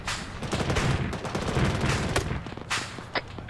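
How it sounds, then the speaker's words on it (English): Rapid, fairly loud rifle fire in the military game Arma 3, said to come from an SKS, sounds as a dense string of cracks for a few seconds. It tapers to a couple of isolated shots, and nobody speaks. "We're getting shot at by, I think, an SKS of some form. We're taking sniper fire over here."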